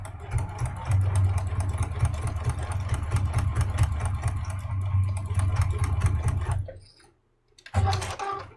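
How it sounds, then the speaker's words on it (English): A sewing machine runs steadily for several seconds with a rapid, even mechanical rattle, stops briefly, then starts again for a short burst, straight-stitching back and forth to sew a D-ring onto a quilted cross-body bag. "we'll go over to the sewing machine"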